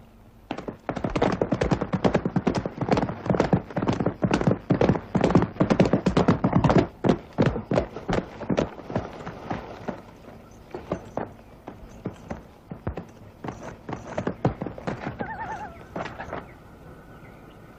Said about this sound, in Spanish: El caballo blanco es el de Warren.